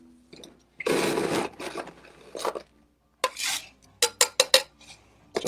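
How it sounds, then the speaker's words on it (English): Crushed ice scooped and shoved into a large glass snifter for a tiki cocktail, heard as close, loud bursts of crunching, scraping and clinking separated by brief pauses, with no talking. "We're going to shove some crushed ice in this and stick that under the spindle blender."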